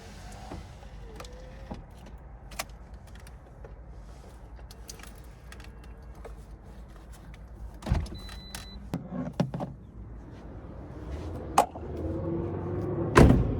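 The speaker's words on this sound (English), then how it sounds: "Put the windows down." Car power windows motor down inside a parked car, a steady low electric whir with a few clunks and a rising rumble near the end, no talking.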